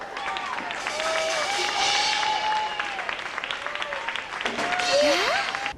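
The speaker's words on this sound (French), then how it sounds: "Je vous demande d'applaudir." Audience applause fills a TV studio set, a steady wash of many hands clapping with crowd noise and tonal music or voices running over it for the whole stretch.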